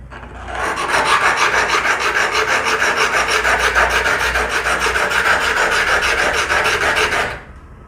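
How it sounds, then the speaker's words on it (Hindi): A plane blade clamped in a honing guide is rubbed back and forth on a sharpening stone, making a steady, close, continuous rasping scrape for about seven seconds before it stops. "अगर आप अपनी ब्लेड को इस डिवाइस में लगा के घिसाई करेंगे तो आप बड़े आराम से इस ब्लेड में घिसाई कर सकते हैं"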